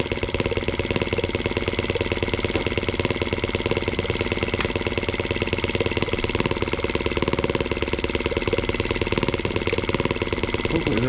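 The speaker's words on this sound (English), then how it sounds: "Hopefully this little engine has enough oomph to make it happen." A small engine on a German showman's engine setup runs steadily, a dense, even, rapid-firing drone with a constant throb that holds at one level throughout, close and loud with no talk.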